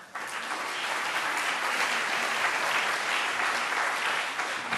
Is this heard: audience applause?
yes